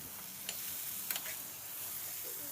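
Tomatoes frying in a pan with bay leaves give a soft, steady sizzle with a couple of brief crackles, quiet and close.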